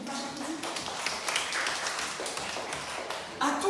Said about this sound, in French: L'équipage applaudit.